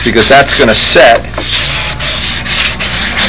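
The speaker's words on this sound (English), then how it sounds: "Final sanding, I just always have the block in place" A sanding block rubbing back and forth over a model airplane wing, several close rasping strokes in steady rhythm, with someone talking over part of the sanding.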